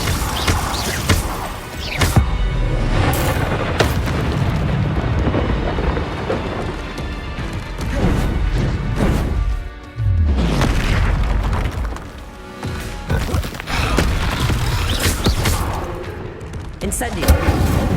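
Bombarda spell explosions going off in the Hogwarts Legacy game, several loud booming blasts in a dense, continuous stretch of combat noise with voices shouting throughout.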